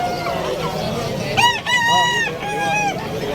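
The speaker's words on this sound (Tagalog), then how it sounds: "may mga manoks dito" Roosters and chickens at a pet market in Bulacan: a loud close rooster crow rings out in the middle over busy market clucking and background bustle, followed by another shorter call.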